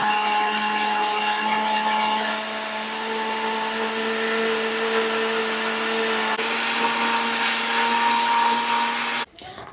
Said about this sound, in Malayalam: നമുക്കിതെല്ലാം കൂടെ ചേർത്ത് നല്ലപോലെ ഒന്ന് അരച്ചെടുക്കാം.